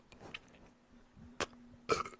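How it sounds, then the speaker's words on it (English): One short, fairly quiet burp comes from close by in an otherwise quiet room, set against soft background sounds. "Sorry for the burp."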